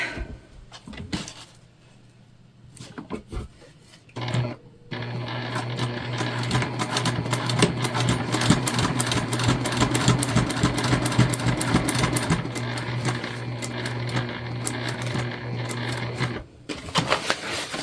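A sewing machine stitches a tote bag with a Teflon foot, running a steady rapid mechanical whir for about twelve seconds between short bursts and pauses, loud and close with no talking.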